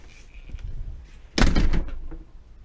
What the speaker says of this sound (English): Let's see how the door closes.